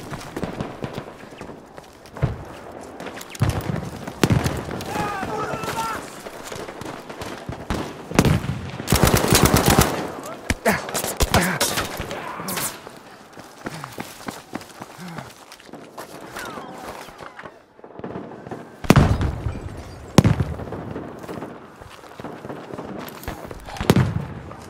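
Battlefield V combat erupts with bursts of machine-gun fire and gunshots, some loud and close, others distant, alongside clattering movement and footsteps and occasional shouted in-game voices across a dense, busy battle soundscape.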